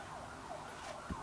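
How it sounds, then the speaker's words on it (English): Emergency sirens wailing faintly in the distance, a rising and falling tone drifting behind quiet garage ambience during work on a 2011 Dodge Charger's hub and brakes. "sirens in the background"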